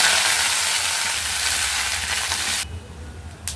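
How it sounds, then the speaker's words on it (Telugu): Toli saaku leaves fry in hot oil in a pan, giving a loud, dense sizzle that suddenly drops to a faint crackle near the end. "స్టవ్ అంటించి బాండీలు పెట్టుకోవాలి. నూనె వేయాలి. ఓకే, ఇప్పుడు తొలిసాకు వేస్తా."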